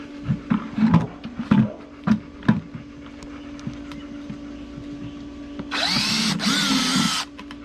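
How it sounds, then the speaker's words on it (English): A few short knocks and bumps, then a loud power drill whirs steadily for about a second and a half, drilling holes in the bottom of cheap plastic plant pots, before stopping. "I'm gonna drill some holes in the bottom."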